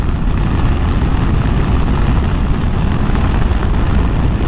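A Yamaha Tenere 700 adventure motorcycle cruises in sixth gear at around 6,000 RPM. Its engine drone is steady and loud, mixed with dense wind rush and road roar, with no voices.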